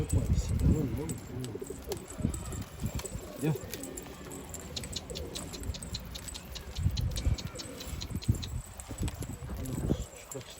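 A male bird coos repeatedly in soft, low calls, close by, while people talk and move around nearby.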